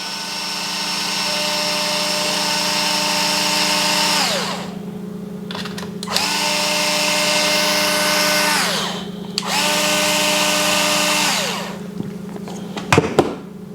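Power driver with a 2.5 mm hex bit spinning out the lower trailing arm screw on an aluminum mount of an RC rock crawler, three sustained whirring runs that wind down, separated by short pauses and small clicks, close and fairly loud.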